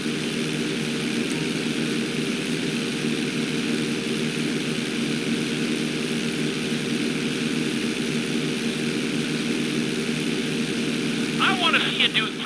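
A propeller airplane engine drones steadily and evenly during a Grand Theft Auto V flight school session, with a brief voice-like chirp near the end.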